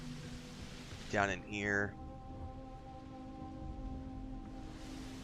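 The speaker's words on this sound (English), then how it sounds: "This is the outside rain." Steady outdoor rain in the video game Starfield, a soft continuous hiss with faint steady tones beneath, briefly interrupted near the start by someone speaking.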